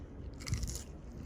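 A bite into crunchy pizza crust cooked on a kamado grill gives a brief close crackling crunch, followed by faint chewing against a low background hum.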